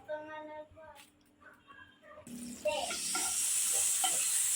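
Butter melts in a hot pan for a mushroom gravy, first with a voice and quiet kitchen sounds, then breaking into a loud, steady hiss of sizzling that holds to the end.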